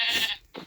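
Sheep bleating in the video game Minecraft, two short close bleats in a row, the first longer and louder, the second brief and softer, with no voices.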